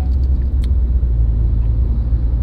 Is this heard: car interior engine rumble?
yes